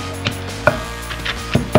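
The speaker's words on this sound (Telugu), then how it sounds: "మనం ఇప్పుడు టమాటా కూడా వేసుకొని ఇందులో దంచేసుకోవాలి." Brinjal chutney with tomato is pounded in a mortar, giving a few dull, uneven thuds close by at irregular intervals, heard alone without talk.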